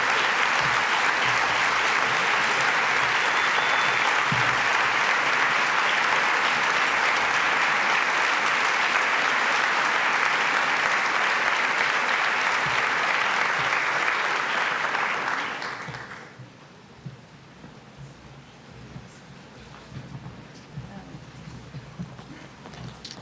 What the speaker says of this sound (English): give a rousing applause for our extraordinary CGI team who has made all of this possible today